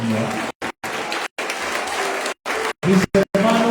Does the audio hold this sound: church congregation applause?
yes